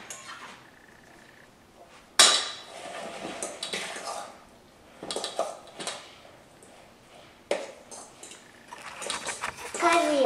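Guacamole ingredients being stirred and mashed in a bowl at home, giving bursts of scraping and clinking utensil sounds in several uneven strokes, close and moderately loud, separated by quieter pauses.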